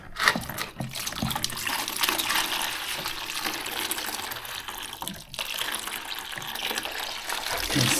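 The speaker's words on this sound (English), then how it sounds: "Now to remove the water," Dirty wash water drains out of a Sponono portable washing machine in a steady, close gushing and trickling flow that runs continuously with small splashes and no talking.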